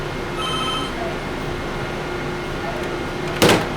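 A telephone rings at a Steak n Shake cash counter for a phone-in order, a brief electronic trill at the start followed by quiet room noise and a sharp handling clatter near the end.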